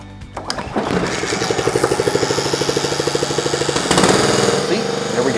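A small engine on power equipment, just after carburetor cleaning, sputters, catches and settles into a steady, loud chugging idle with a regular rapid rhythm, close by.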